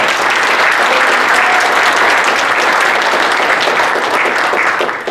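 A hall full of people at an army academy officers' forum general meeting and president inauguration applauds the incoming association president, dense steady clapping held loud and close for the full stretch.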